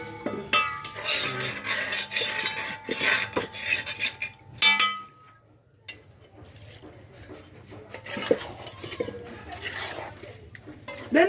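A cooking pot being opened and handled in a home kitchen, with metallic clinks and scrapes of pot, lid and utensils, then quieter stirring and drips; people talk nearby.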